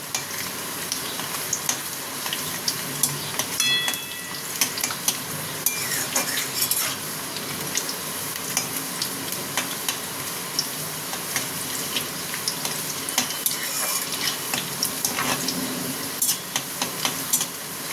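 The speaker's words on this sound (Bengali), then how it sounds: "বেশি লাল করব না, শুধু হালকা হালকা ভেজে নেব পেঁয়াজটাকে" Onions fry in a pan for a shrimp and taro kachur dum, a steady close sizzle broken by repeated scrapes and clinks of a spoon stirring against the metal, with no talk.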